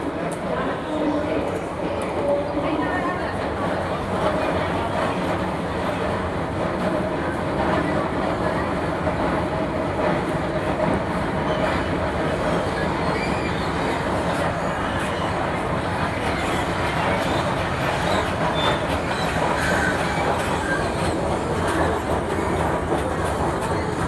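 Train noise at Park railway station in Chennai, a steady loud rumble with faint clickety-clack that continues without a break, with voices mixed in underneath.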